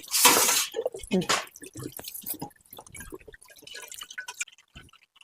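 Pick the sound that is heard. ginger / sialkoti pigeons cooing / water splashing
water splashing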